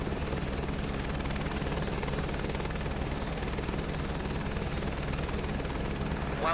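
A helicopter in Microsoft Flight Simulator 2024 gives a continuous, even rotor and engine drone with a low rhythmic thrum, loud and unbroken throughout, no voices.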